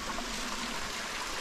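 Stream water rushes steadily over slippery rocks below a waterfall in the Peak District in autumn, a constant close broadband wash with no voices.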